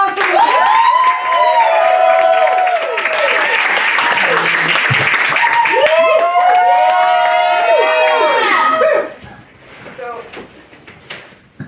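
Loud applause and cheering from a cabaret audience, a dense sustained roar of clapping with whoops and whistles that holds for about nine seconds, then quickly dies down to scattered claps.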